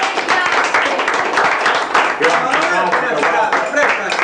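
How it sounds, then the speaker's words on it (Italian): A small group of guests claps in applause at an Italian retirement party, steady close-up clapping with lively chatter and voices mixed in throughout. "Si fa un applauso il fine serata a Paolo?"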